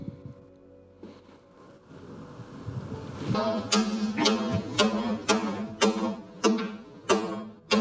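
A small chisel working waste from the sides of timber dovetails in cabinet joinery, heard as a quiet start followed by a steady run of crisp, evenly spaced clicks close by, with no voices.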